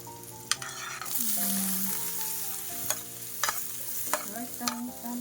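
Eggplant omelette (tortang talong) frying steadily in a pan, with a continuous sizzle, several sharp clicks and scrapes of a utensil, and a faint hum of background tones throughout.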